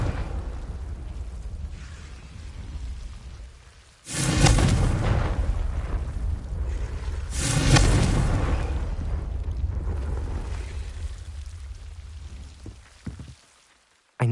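Confringo blasting spell in Hogwarts Legacy, with two loud, sudden fiery explosions a few seconds apart over a continuous rushing background, each blast trailing off into crackling rumble.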